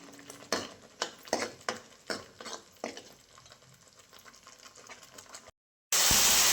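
Paneer curry ingredients are sautéed in oil in a pan, with a series of sharp rhythmic scraping and stirring strokes over a soft background sizzle, then a brief silence and a sudden loud hiss at the end.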